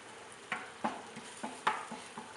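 Chopped onion frying in a pan, a soft steady sizzle broken by several light scraping stirs from a utensil, fairly quiet and with no talking.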